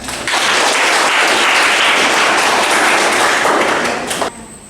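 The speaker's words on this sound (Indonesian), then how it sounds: "Bagus sekali, tepuk tangan." A steady burst of applause from a class of students, dense clapping lasting about four seconds before cutting off.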